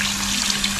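Water pours steadily into a container to soak salvaged meat, a continuous close splashing rush with no pauses or voices.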